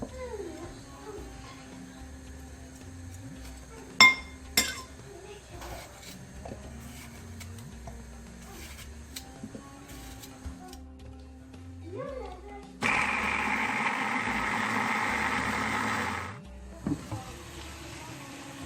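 Tomatoes and red peppers frying with chicken and onion in a pan, a soft sizzle rising to a steady hiss for a few seconds near the end, preceded by quieter clinks and kitchen handling.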